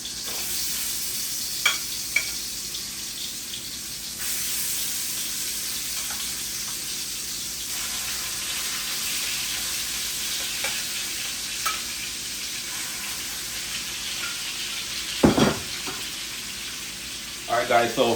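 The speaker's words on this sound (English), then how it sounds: "we're gonna fry it up, sear it on both sides for about 2 minutes each. You hear that sizzle?" Chicken pieces sear in hot cooking oil, giving a steady loud sizzle and frying hiss throughout, with a few brief clinks and a louder clatter near the end.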